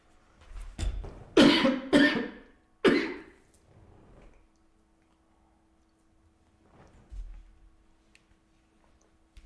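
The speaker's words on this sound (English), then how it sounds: "Excuse me, I got a cough." Several sharp coughs in a quick cluster, then a single cough, followed by quiet and a faint throat sound near the end.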